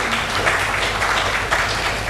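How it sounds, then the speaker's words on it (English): Applause from the audience at a symposium on elder psychological care, greeting a 67-year-old gentleman called to the front; steady, dense clapping that stays even and fairly loud throughout, with no talk over it. "Please, a loud round of applause for him."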